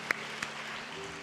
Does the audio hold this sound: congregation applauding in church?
yes